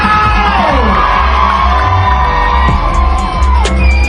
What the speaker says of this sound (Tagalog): O, lakasan mo lang yung sigaw!